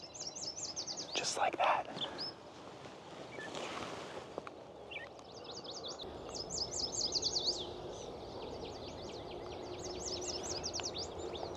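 Male warblers sing from open perches in the morning, repeated high thin trilled phrases sounding clearly, with a brief spoken remark and some handling noise near the start.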